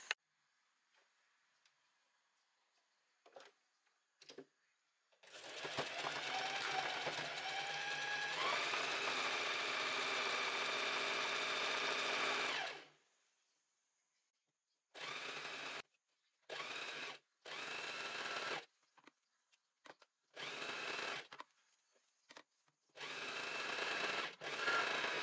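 A sewing machine hemming a blouse runs in a long steady burst of mechanical whirring, then stops and restarts in a series of shorter runs, close and clear with no talking.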